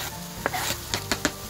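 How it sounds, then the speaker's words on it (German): Garlic, chopped rosemary and onion sizzle in a pan beside wild mushrooms for a lasagne, a steady frying hiss broken by several sharp scraping stirs, close and fairly loud with no talk. "Als nächstes kommt nun unser Knoblauch, klein gehackter Rosmarin und die Zwiebel mit in die Pfanne"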